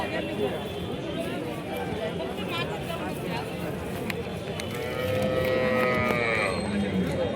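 Cattle low and moo repeatedly at a busy livestock market in Chalisgaon, with a crowd murmuring and people talking throughout; the calls rise clearer and louder toward the end.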